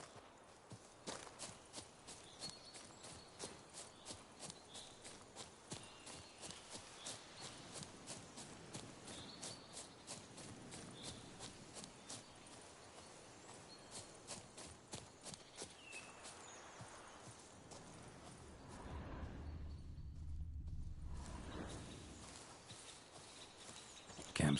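Roach the horse trotting in Witcher 3, steady clip-clop hoofbeats on hard ground in a quick, even rhythm, then slowing near the end as the hooves give way to a dull rumble.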